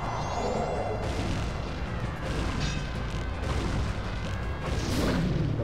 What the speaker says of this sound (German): Und die Explosion war ein bisschen heftig.